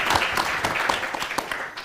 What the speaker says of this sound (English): A big round of applause to Chandrababu